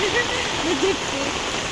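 Heavy monsoon rain pours as a dense, steady hiss close by in a Tulu-speaking village, with a voice talking over it.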